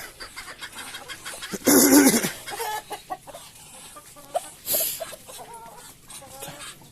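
Chickens cluck and squawk in short bursts, with one loud, harsh cry near the start and softer clucks scattered throughout.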